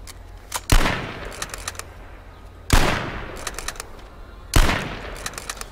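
Gunfire in a video game: three loud, sharp shots spaced about two seconds apart, each followed by a trailing echo and scattered smaller pops.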